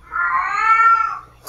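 A cat meows in a horror video game, one loud, drawn-out wailing caterwaul lasting over a second, close and clear with no talk over it.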